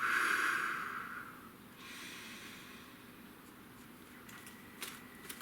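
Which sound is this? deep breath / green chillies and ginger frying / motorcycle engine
deep breath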